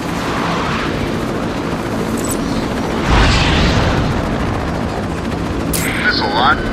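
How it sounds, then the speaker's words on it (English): A missile strikes a structure in a Batman Arkham game during a helicopter fight, landing as a loud broadband boom over continuous rumbling noise, with helicopter-like whirring and a voice speaking. "Missile on. Structure is hit."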